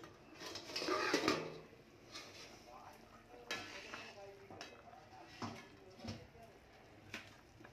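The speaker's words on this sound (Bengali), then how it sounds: "এবার আমি মাছগুলো দিয়ে দেব।" Pieces of shol fish slide into a simmering radish curry in a pan, making a few clattering, splashing bursts and scrapes followed by a soft bubbling sizzle at close range.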